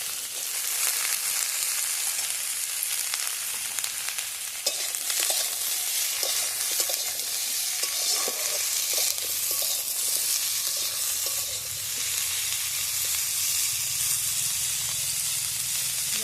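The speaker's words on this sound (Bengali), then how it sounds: "হালকাভাবে আমি ভেজে নেবো হালকা হালকা করে ফুলকপি ভেজে নেবো আলুর সাথে নিয়ে" Cauliflower and potato pieces lightly frying in a pan, a steady, even sizzling hiss that carries on without a break, with faint scraping of a spatula now and then.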